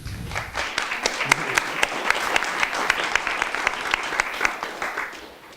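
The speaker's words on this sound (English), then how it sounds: "So a clap for all of you." Steady applause from a workshop audience, many hands clapping at a moderate distance, continuing evenly for several seconds with a few sharper individual claps standing out.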